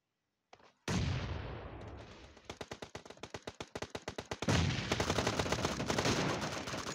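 Gunfire in the PUBG Mobile game, opening with a loud shot, then a rapid string of separate bursts that build into sustained automatic fire, loud and close, with no talk.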